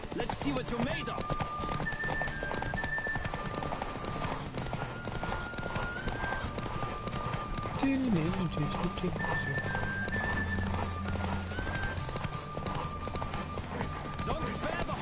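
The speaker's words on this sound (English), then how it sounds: "Don't spare the horse!" In a Witcher 3 video game race, a horse gallops with fast, even hoofbeats, snorts and whinnies partway through, while voices and background music run over the top.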